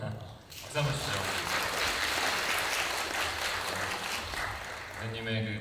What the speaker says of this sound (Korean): 박수 한번 주시죠.